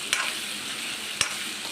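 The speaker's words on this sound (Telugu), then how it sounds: "వేసి ఇంకొక 2 మినిట్స్ బాగా ఫ్రై చేసేసుకొని" Minced mutton keema frying in a pan with cumin powder, a steady sizzle throughout with two sharp stirring scrapes; no voices.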